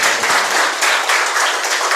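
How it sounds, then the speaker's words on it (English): An audience at an international seminar on ethics and climate change applauds the speakers, a steady wash of many hands clapping at even loudness throughout. "I'd like to please invite all of you to give a round of applause to our speakers"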